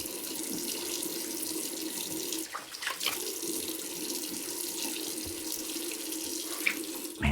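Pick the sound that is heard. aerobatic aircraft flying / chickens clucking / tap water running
tap water running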